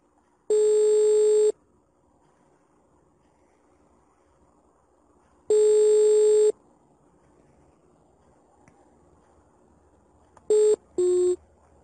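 An unanswered WhatsApp call on a phone: a ringback tone sounds in about one-second bursts roughly five seconds apart over faint background hiss, then ends with two quick tones, with no one speaking.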